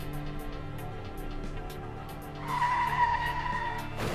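Car tyres skid and squeal during a crash between a blue car and a red car, a sustained screech rising sharply partway through over a rumbling engine, loud and close with no voices.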